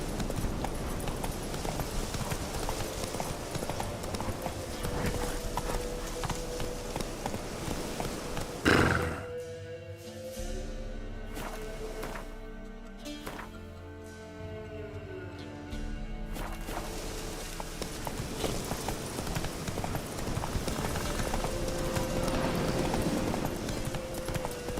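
Hoofbeats of Roach, the horse in The Witcher 3: Wild Hunt, clip-clopping in a steady rhythm under game ambience and music, with a brief thump and quieter stretch midway.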